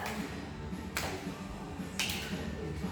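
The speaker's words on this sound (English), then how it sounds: "Clap in front, clap above." Two crisp single hand claps, roughly a second apart, sound faintly during a standing balance and core exercise class, over a low steady room background.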